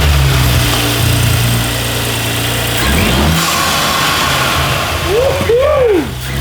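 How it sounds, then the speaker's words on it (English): An Audi S5 B9 fitted with a Unitronic cold air intake cranks, fires and settles into a loud idle, then gives two sharp rising-and-falling revs near the end, close and powerful. "Go ahead, start your engine."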